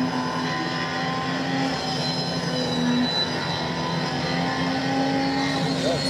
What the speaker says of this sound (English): Oh, that's their new Hurricane V6 or inline six.